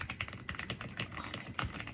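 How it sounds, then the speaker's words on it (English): Rapid, steady keystrokes on an AULA F75 wireless mechanical keyboard, close and fairly quiet, forming a continuous clicky patter with no talking. "On video, the keyboard sounds a little louder than it actually is."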